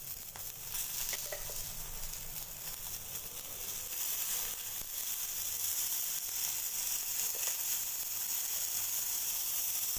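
Okra sizzles and fries steadily in hot oil in a pan, a dense continuous hiss that swells slightly partway through, close and even throughout.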